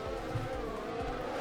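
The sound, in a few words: F1 car engine sound in replay, from video game F1 2020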